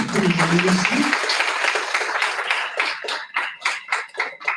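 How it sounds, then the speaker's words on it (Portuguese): An audience applauds a speaker at an animal welfare lecture, the clapping starting under a voice and then continuing alone, growing sparser and more distinct toward the end. "Por favor, vamos aplaudir a nossa palestrante."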